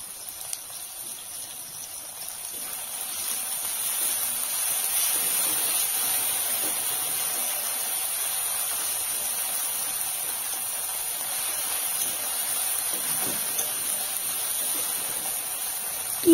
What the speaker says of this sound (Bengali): আমি এতে অল্প জল দিয়ে দিচ্ছি